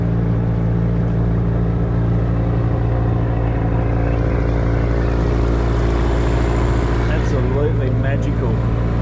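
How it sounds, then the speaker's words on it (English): Outboard motor on a small aluminium tinny boat running smoothly after a quick clean-out, a loud, steady droning hum close by with a continuous low rumble throughout. "this is the best this motor's ever run"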